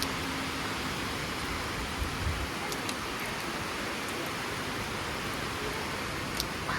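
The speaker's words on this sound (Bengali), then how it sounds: "প্রচুর বৃষ্টি পড়ছে।" Heavy rain pouring down outside a home, a dense steady hiss with no break, fairly close and uniform, with a few faint knocks.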